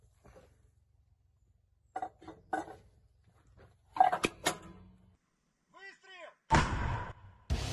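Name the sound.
MT-12 Rapira anti-tank gun firing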